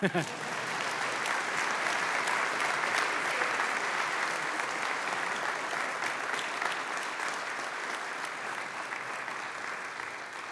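Audience applauding at an awards chapel, a sustained wash of many hands clapping that swells early and tapers slowly over ten seconds, with no talking.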